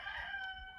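A rooster crows in an intentional community. One drawn-out, fairly loud cock-a-doodle-doo rings out clearly over a low background rumble.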